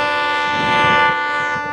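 A loud Florida East Coast Railway locomotive horn blares continuously with rich, steady harmonic tones over the rumble of the passing freight train, swelling slightly in the middle.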